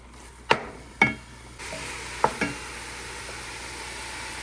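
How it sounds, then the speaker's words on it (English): Chicken mixture for lasagna stirred in a pan, with a few distinct spoon knocks against the pan over a steady low sizzle of cooking. "I'm going to mix this and let it cook for at least 2 to 3 minutes"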